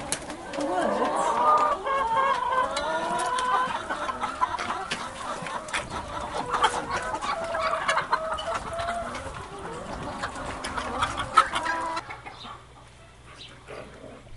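Chickens clucking and murmuring together at a chicken and turkey sanctuary, a continuous close chorus of hens with occasional louder calls, fading near the end, and voices faintly mixed in.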